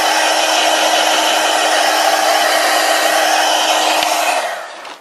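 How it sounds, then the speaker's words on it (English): Heat gun blowing steadily at close range while drying glue and ink on a handmade lace mini book, a loud even rushing whir that runs for several seconds and then winds down. "I love my heat gun."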